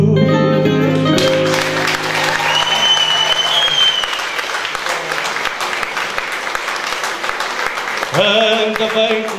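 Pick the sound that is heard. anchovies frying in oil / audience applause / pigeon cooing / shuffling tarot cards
audience applause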